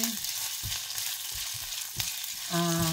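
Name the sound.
ginger frying in a pan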